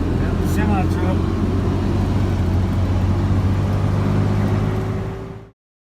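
A semi truck passing on a road, a loud close rumbling engine roar with broad road noise that holds steady, then cuts off abruptly near the end.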